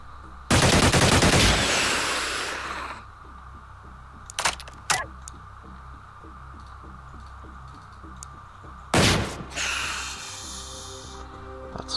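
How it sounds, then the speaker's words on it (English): Gunfire in a combat video game on a carrier mission comes in two loud, dense bursts of rapid shots, with a few single sharp cracks between them and quieter game ambience in the gaps. "open fire."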